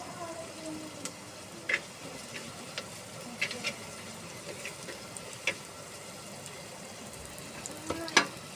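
Curry leaves sautéing in a pan for Kerala fish curry make a soft, steady frying hiss, with scattered sharp clicks and taps from stirring at a moderate distance.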